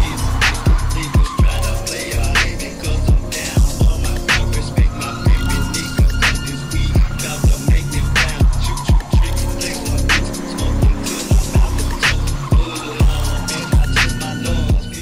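A Volvo 940 drifting: loud engine roar with repeated sharp tire squeals and skids, close and continuous for about fifteen seconds.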